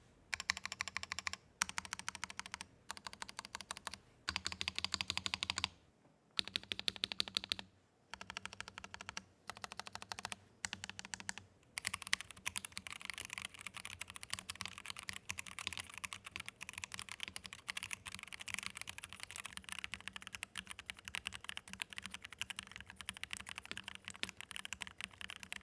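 Rapid clacking keystrokes on an ASUS ROG custom gaming keyboard with NX Red linear mechanical switches, first in short bursts broken by pauses, then as continuous fast typing, close and crisp with no voices.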